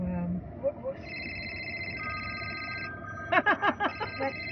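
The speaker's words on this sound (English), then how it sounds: "Okay. My phone." A mobile phone rings with steady electronic tones, followed by a brief burst of rhythmic chirping notes, heard over a faint background murmur.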